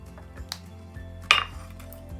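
A metal pot set down and handled in a kitchen while preparing blood orange tea with milk, giving a few sharp clinks and a brighter clatter midway, close by and fairly quiet, with no talk.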